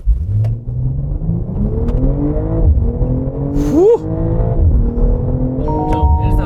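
A BMW M440i coupe in Sport Plus mode with all aids switched off launches hard toward 100 km/h, its engine roaring loudly and close as it climbs through the revs with shift breaks and rising pitch sweeps.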